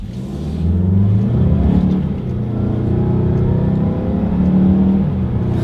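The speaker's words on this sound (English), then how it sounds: "let's test out the acceleration here on the CX-5, and let's see how quickly we can get this one here up to speed" A 2020 Mazda CX-5 accelerating hard from inside the cabin, with a loud, sustained engine drone that rises in pitch through the run, dips briefly at a gear change, then climbs again.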